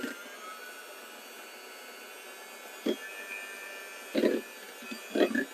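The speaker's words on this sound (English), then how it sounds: "Grab your handheld mixer or something and you're just going to beat it." A handheld electric mixer beats softened cream cheese for a hummingbird cake frosting, giving a steady, fairly quiet whir broken by a few short, louder clattering bursts near the end.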